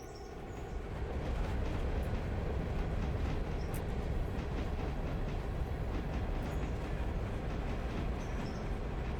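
Passenger train from the game Railroader rolling steadily along the track, a continuous low rumble with faint clickety-clack, fairly close and alone after a brief quiet start.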